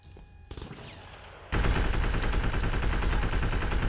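Gunfire from the video game Sleeping Dogs: after a quieter stretch with a few scattered shots, a loud, sustained burst of rapid automatic fire erupts and keeps going to the end, dense and close.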